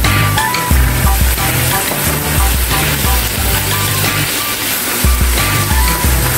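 Garlic, smoked paprika and cumin sizzle loudly and steadily in a frying pan for a ground-meat fricassee, a dense continuous crackle with a low hum beneath it.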